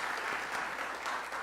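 A church congregation claps together in encouragement for its youth members, the applause dense, steady and sustained throughout without any talk.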